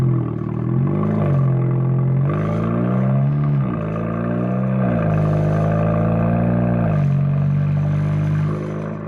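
A tuned Seat Leon FR 5F with a 1.8L engine at Stage 1+ idles at around 1800–1900 rpm, heard from inside the car as a loud, steady, deep exhaust drone with slight rises and dips in revs.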